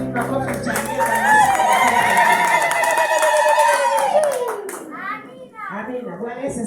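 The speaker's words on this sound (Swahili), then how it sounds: "Tupige makofi, mchangie Bwana." A church congregation claps together during an Anglican service. Energetic voices of children and adults sing and call over the applause, which fades near the end.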